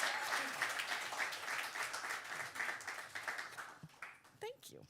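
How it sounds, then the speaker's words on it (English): An audience at a poetry night applauds, with a steady wash of clapping and a few cheers that gradually tapers off as a voice starts talking near the end. "let's give a huge round of applause"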